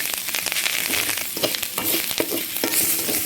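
Drumstick leaves sautéing in a pan for thuvaiyal, with a constant loud sizzle broken by repeated scraping stir strokes, no talk.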